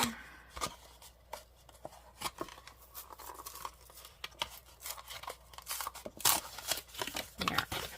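Packaging of paper cupcake liners torn and cut open with scissors, a run of sharp snips, crinkles and ripping bursts at close range, uneven and busier toward the end.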